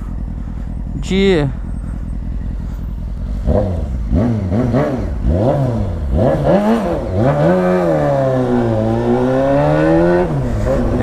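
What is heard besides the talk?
Honda Hornet 600 carbureted motorcycle engine revving while riding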